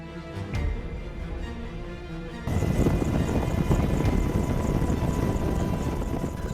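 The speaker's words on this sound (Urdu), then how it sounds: "پہلے بات ہو جائے بھارتی جنگی مشین یعنی اپاچی ہیلی کاپٹر کی۔" An Apache attack helicopter, first a quieter whine with a few clicks, then a sudden jump to a loud, dense rotor and engine roar that holds steady and close for several seconds.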